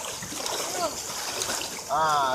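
A small waterfall in a West Sumatran stream splashes and trickles in the background. Voices and short whistling sounds come over the water noise, and a louder burst of splashing arrives near the end.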